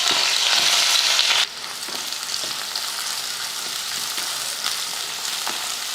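Chopped onion sautés in hot oil in a kadai with cinnamon, cardamom, clove and curry leaves for a liver fry, giving a steady close sizzle that is loudest at first and then settles into a softer, even frying hiss with a few stirring clicks.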